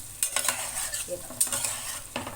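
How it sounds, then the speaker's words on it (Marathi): Stuffed eggplant frying in oil, a continuous close sizzle with repeated scraping stirs and spatula taps through the short stretch, no voices. "ह्याला तेलावर फक्त फ्राय करून घ्यायचे"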